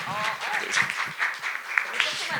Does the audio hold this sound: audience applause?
yes